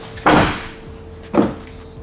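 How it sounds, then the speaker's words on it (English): A camper van door closed twice, two solid thuds about a second apart, close by, with a faint steady hum in the background. "Close the door."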